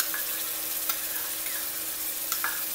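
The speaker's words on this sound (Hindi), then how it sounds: "लाइट गोल्डन ब्राउन हम ऑनियन को करेंगे" Onion sizzles in hot oil with ginger garlic paste while being stirred, a steady close frying hiss broken by light scraping strokes of a spoon against the pan.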